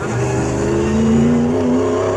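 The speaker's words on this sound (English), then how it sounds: "There goes the 3rd place car onto his final lap." Race car at Snetterton crossing onto its final lap during an ASCARS race: a loud, close, sustained engine roar with a rising whine as the car passes.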